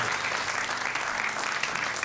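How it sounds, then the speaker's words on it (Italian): A studio audience at a Sardinian song-parody TV show breaks into loud, dense, continuous applause, close and even throughout. "un applauso, più forte"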